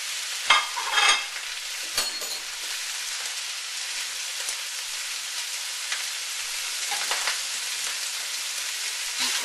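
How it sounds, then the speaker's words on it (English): Vegetables and rehydrated shiitake mushrooms sizzle in a hot wok for Cantonese chow mein, a continuous close frying hiss broken by a few scraping stirs near the start, with no voices. "You stir fry that around a little bit"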